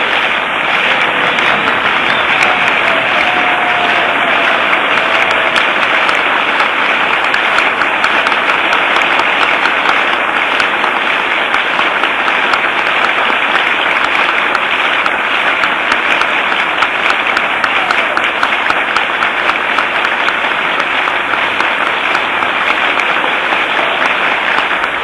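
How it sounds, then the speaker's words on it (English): Sustained applause from a large crowd after the President's remarks in Texas, a loud unbroken wash of clapping that holds steady throughout, with no distinct flashbulb pops standing out. "So the applause acknowledging the President's remarks, flashbulbs popping"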